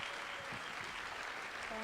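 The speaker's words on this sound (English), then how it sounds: "So if you can give her a huge applause" An audience at the 2014 Michigan Good Food Summit applauds, a steady wash of many hands clapping throughout, fairly distant and with no talk over it.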